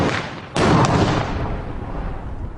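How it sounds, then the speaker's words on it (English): A test bomb goes off with a sudden loud blast. A second sharp crack follows close behind, then a rumbling tail fades out over the next two seconds. "They create an explosion,"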